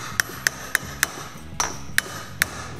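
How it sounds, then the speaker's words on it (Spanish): A small hammer taps an engine valve of a Honda SH 125/150 scooter eight times at a steady rhythm, each strike a sharp, ringing click, close up with a quiet background. "con este mismo martillito, como estaba antes, le damos golpe a la válvula."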